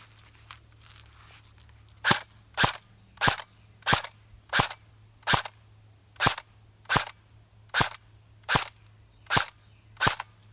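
A CYMA AKS74U airsoft gun fires single shots in a steady, evenly spaced series of about a dozen sharp, crisp snaps, close and loud over a low background hum.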